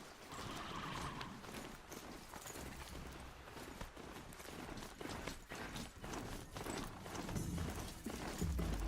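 Hooves clip-clop steadily as a horse walks in Horizon Zero Dawn, an even rhythmic plodding under faint game ambience, moderately near and fairly quiet.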